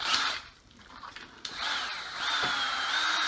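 A power drill bores a small pilot hole into wood while a rustic mug rack is assembled, whirring in close bursts that rise and fall with a brief pause before spinning steadily again, with no talk.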